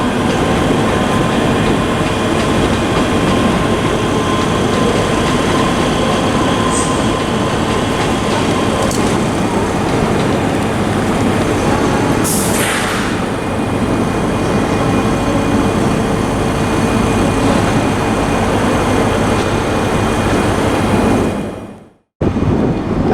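Trains running at Glasgow Queen Street station, a steady loud rumble of rolling stock and engines filling the whole stretch, with brief higher squeals and a sudden drop to silence near the end.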